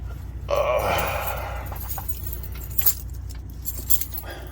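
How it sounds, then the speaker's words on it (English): A set of keys jangles close by inside the cab of a new 2022 Freightliner Cascadia truck, a bright metallic rattle lasting about a second and a half, then fading to small clinks over a low steady hum. "Let me get the keys out."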